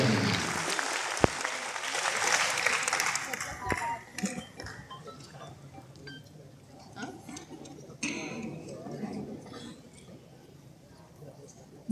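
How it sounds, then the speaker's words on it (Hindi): Crowd applause welcoming Chief Minister Vishnudev at the Ullas Mela in Raipur, strongest at first then thinning into scattered claps and sharp knocks, with a murmur of people and occasional talk underneath. "एक बार जोरदार ताली बजाएं उनके स्वागत के"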